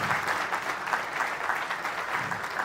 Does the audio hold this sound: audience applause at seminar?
yes